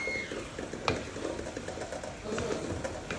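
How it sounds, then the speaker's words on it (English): Quick fried rice being stirred and tossed in a pan, a steady soft sizzle with scraping and clinks of the utensil against the pan, close and moderately loud, with no talking. "So right now, we'll be mixing everything together."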